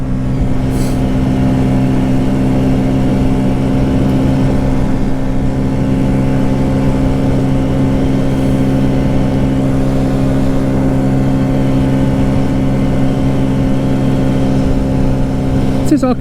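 A classic Honda CB125S motorcycle, a barn find back on the road, runs steadily throughout at riding speed, with a loud, even, mid-pitched engine drone and constant wind rush across the whole stretch.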